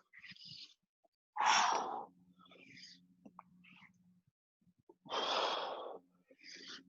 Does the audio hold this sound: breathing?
yes